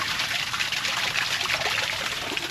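Spring water from a roadside spring trickles and splashes steadily, close by and continuous, with no talk over it.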